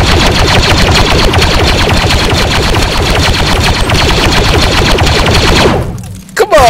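Rapid automatic blaster fire from a gun in a Star Wars virtual reality game, a dense, loud, continuous stream of shots lasting several seconds before cutting off abruptly near the end.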